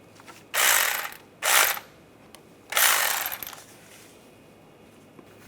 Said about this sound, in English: I'm going to torque this bolt to 17 foot-pounds